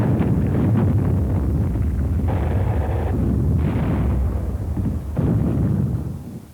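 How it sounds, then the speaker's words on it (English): Heavy, sustained booming and roaring from WWII combat on Okinawa, where a recoilless rifle fired, with a few distinct loud blasts over constant rumble and wind-like noise in old archive sound. "A new weapon, the recoilless rifle, was used for the first time in combat during the campaign's final days."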